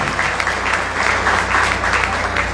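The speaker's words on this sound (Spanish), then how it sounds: "así que un aplauso para él" Audience at a Spanish-language book presentation applauds in honor of the Departamento de Agricultura, a steady, full clapping from a seated crowd that stays even throughout the short burst.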